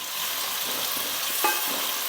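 Steady, dense sizzling of chopped onions frying in hot oil for fish curry, with a brief louder crackle midway; continuous and close, no talking.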